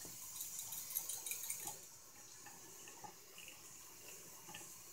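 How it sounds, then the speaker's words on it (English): Warm tap water runs steadily over melting ice in a sink, a soft hissing stream for about two seconds that then eases into faint trickling and drips, quiet and close. "I'm just putting it under some warm water until it finishes melting."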